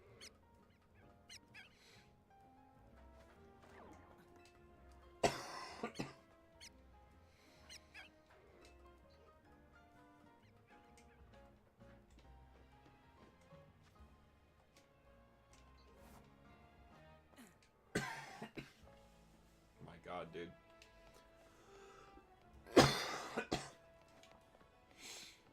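Coughing from a person who is also talking, in a few sharp bursts around 5, 18 and 23 seconds, heard close over a steady bed of game music and speech.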